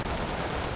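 A short, dense burst of FN MAG machine-gun fire in the Wargame Red Dragon strategy game, a loud continuous rattle lasting under a second with no talking.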